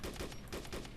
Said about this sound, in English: So I see him now, shooting at him.